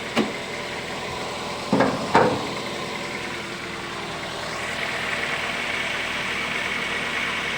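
A Toyota or Daihatsu car engine idles roughly at 1200 RPM and vibrates, a steady, slightly uneven hum, broken by a few short metallic clanks early on, no voices.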